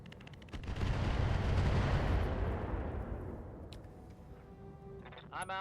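In the mech game Roguetech, a Catapult mech fires mortars in a loud, broad roaring blast that swells and slowly fades over several seconds, followed by brief mechanical clatter.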